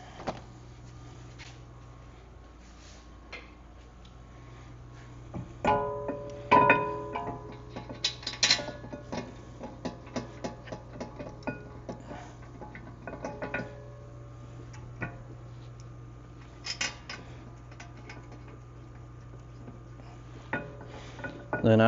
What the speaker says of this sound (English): put our caliper bracket on there